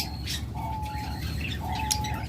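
A pair of Fischer's lovebirds in a cage giving sharp, high chirps and tweets, several calls close together at close range over a steady background hum, with no talk.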